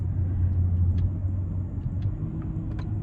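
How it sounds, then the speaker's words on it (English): A 2024 Toyota Corolla Cross Hybrid slows under regenerative braking, heard from inside the cabin as a steady, fairly loud low rumble of road and drivetrain noise with faint higher whines and no talking. "And I'll show you what I mean by the regen braking."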